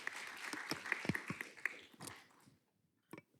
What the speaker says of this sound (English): Round of applause for our volunteers again.